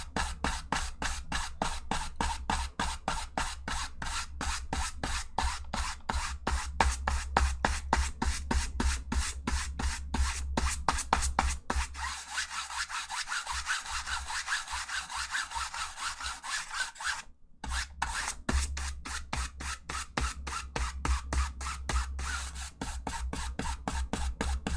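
A palette knife scrapes paint straight across a canvas to build a sandy texture, giving steady, rapid rasping strokes that repeat evenly and close to the ear, with one brief pause near the end.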